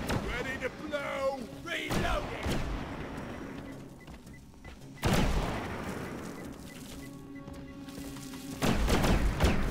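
An explosion in the Deep Rock Galactic video game sounds as a sudden loud blast, one of several heavy booms and thuds amid gunfire, underground cave ambience and chatter throughout.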